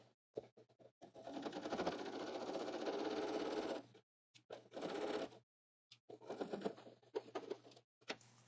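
A sewing machine stitches forward along the edge of a fabric pocket, running in several close bursts with brief pauses between them.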